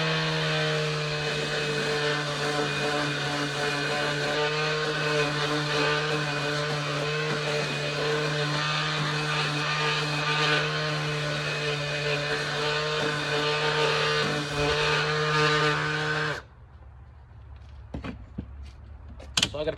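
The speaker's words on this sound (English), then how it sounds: "I'm going to use my palm sander just to clean that up a little bit." Palm sander working soft wood for a step stool, a steady loud buzzing drone with strong harmonics running for about sixteen seconds before it cuts off abruptly, leaving faint clicks and handling noise.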